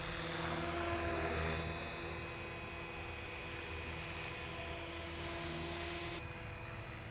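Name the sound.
helicopter in inverted hover at 65% RPM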